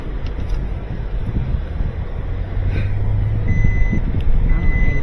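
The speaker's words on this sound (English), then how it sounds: "she's beeping at me" A vehicle's reversing alarm sends out short high beeps partway through, over the steady rumble of engine and road noise heard from inside a car driving in Dallas, with some wind buffeting.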